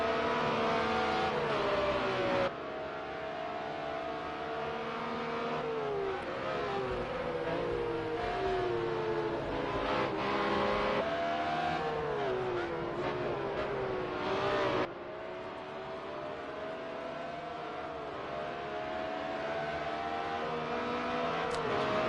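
A Yamaha M1 racing motorcycle engine under throttle at the Red Bull Ring, a loud, high-pitched wail rising and falling through gear changes, with a second machine audible nearby.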